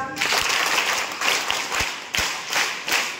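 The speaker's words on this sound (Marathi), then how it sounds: "पहिल्या फेरीमध्ये सगळ्या गटांनी उत्तर बरोबर दिलेले आहेत आणि म्हणून 4ही गटांचं आपण टाळ्या वाजवून अभिनंदन करूया" Students at a government secondary ashram school in Dabhosa, Jawhar, clap together for the quiz groups, a steady wash of applause with sharper individual claps standing out at intervals, fairly close.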